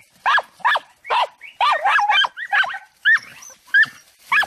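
Andalusian podenco hunting dog yelping and whimpering in a rapid, excited string of high, close, sharp cries, about a dozen short bursts with brief gaps between them.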